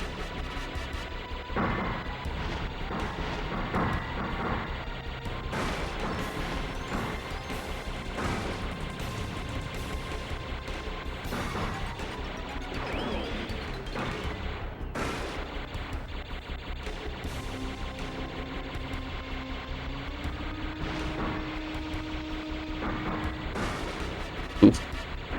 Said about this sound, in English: Shoot lasers